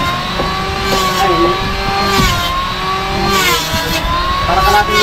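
A boat engine drones steadily and loudly at close range on a roofed boat, its pitch shifting slightly throughout, with voices talking over it.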